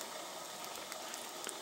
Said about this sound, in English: Sounds like we're already back to a boil